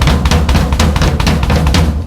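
A drum kit plays a shuffle with weak double strokes, giving a loose, uneven run of repeated hits over a thick low rumble of sustained bass, loud and close throughout, with no talk.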